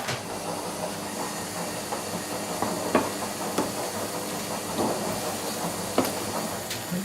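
Chilies and other ingredients sizzle steadily in a pan as an aubergine pasta dish cooks, a continuous hissing fry with small pops and crackles rising above it, close and fairly quiet, with no talking.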